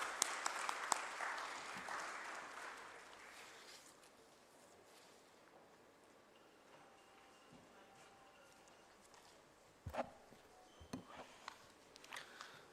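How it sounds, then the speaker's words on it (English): Audience applause greets a company representative at a stock exchange listing ceremony, with dense clapping loud at the start and fading over a few seconds, followed by quiet room tone and a few scattered knocks and shuffles near the end. "A huge round of applause."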